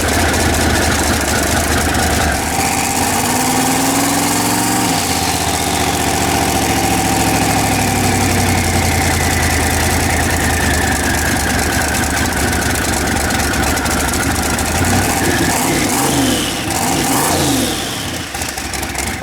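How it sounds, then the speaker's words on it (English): A rough-running engine in a garage idles and revs unevenly, its carburetor sputtering as if about to stall, a loud continuous drone with rising and falling pitch swells throughout. "So it's wanting the carburetor's trying to die on me."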